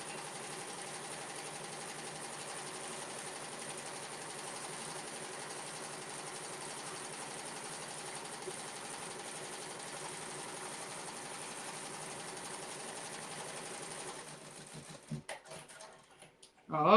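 A home embroidery machine stitches a fabric bookmark with a fast, even mechanical whir and ticking needle rhythm that runs steadily and close, then stops near the end with a few clicks and handling noises.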